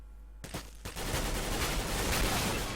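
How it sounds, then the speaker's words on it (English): Gunfire in the CS:GO video game, shooting through smoke: a couple of sharp shots, then a sustained rapid burst of automatic fire, loud and dense throughout. "Even if he just shoots through the smoke right now"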